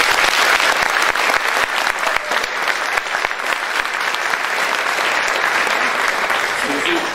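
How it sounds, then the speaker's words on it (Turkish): Loud, sustained applause from a concert audience at a Turkish folk song celebration marking the Republic's 100th anniversary in Langen, Germany, a dense wash of many hands clapping close and steady throughout. "hem müzik ekibimize hem de koromuzdaki bütün arkadaşlarımıza çok büyük bir alkış"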